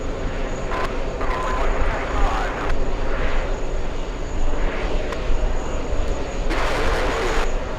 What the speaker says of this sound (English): we're gonna go over to the American 777 from Milan